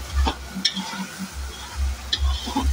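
Vegetables with ground spices being stirred and sautéed in a pan with a splash of water, giving soft sizzling and repeated low scraping stir strokes at close range, with no talk.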